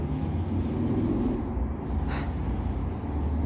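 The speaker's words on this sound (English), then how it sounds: "hella city, hella cars. You can literally hear them all day, every day." Steady, dense road traffic rumbles throughout, a continuous wash of car noise with one vehicle swelling past briefly.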